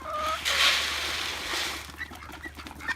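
Brief clucking and squawking from farm-raised chickens close by on a farm in Hawaii, a few short calls over rustling outdoor noise.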